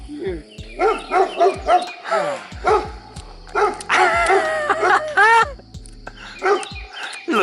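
A dog barks and yips in short bursts nearby, with whimpering cries between them while a person talks over it.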